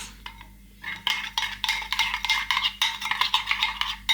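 A utensil stirs and scrapes through a tomato-based chicken marinade in a bowl, giving close, rhythmic clinks and wet swishes that begin after a quiet moment and go on steadily.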